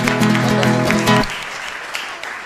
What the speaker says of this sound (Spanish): un fuerte aplauso para Amanda entonces